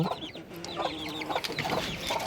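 Chickens cluck softly nearby in a short burst of overlapping calls, with a few higher squawks mixed in.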